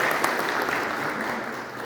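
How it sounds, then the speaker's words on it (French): Continuous, fairly soft applause from an audience at a book reading session on Moroccan security, honoring the students, a uniform patter of many hands with a few sharper claps near the start. "Il faudrait les applaudir."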